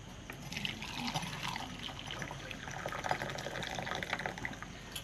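Hot water is poured, making a faint, continuous trickling and splashing of liquid that runs steadily for several seconds at low volume.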